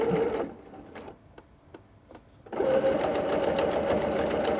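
A sewing machine stitches a drawstring backpack with red bobbin thread and green top thread, running loud and steady, pausing briefly with a few light clicks, then resuming its fast whirring hum.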